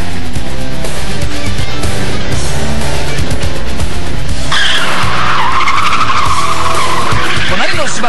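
A car drifting down a technical mountain pass touge road, with a loud engine roar, a long shrill tyre squeal and a skid through the corner, close and intense, with voices faintly underneath.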